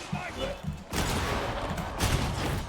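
Gunfire bursts in the video game Warhammer 40,000 Darktide, with loud shot blasts near the one- and two-second marks in a noisy game mix, following a stretch of spoken voice at the start.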